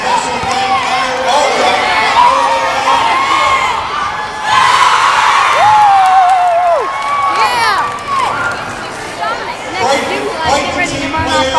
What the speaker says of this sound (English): Please let's give a round of applause and a special thank you.